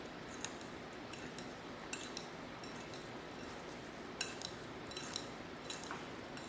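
Pumpkin cinnamon roll ingredients are mixed with a utensil, giving quiet irregular clinks and taps against the bowl over a faint background.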